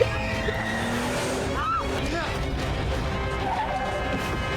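Crash and tire squeal from a car being hit in an action scene of the 2009 film Ninja Assassin, with short skidding screeches and impact noise over a loud, busy soundtrack, while a voice talks faintly underneath.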